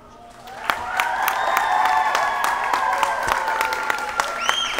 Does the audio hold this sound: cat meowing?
no